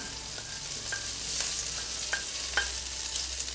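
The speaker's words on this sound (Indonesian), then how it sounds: "Ini minyaknya sudah panas, kita masukin bawang putih sama ikan teri" Garlic and small anchovies dropped into hot oil, a soft steady sizzle with a few sharp ticks and spatters, close and with no voices.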